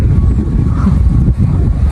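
Strong wind buffets the microphone outdoors while a kite is flown, a loud, continuous low roar with gusty fluctuations throughout.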